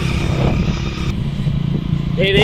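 A motorcycle climbs a hairpin bend road in the Kolli Hills with a close, steady engine drone and wind rush, and a voice talks over it throughout.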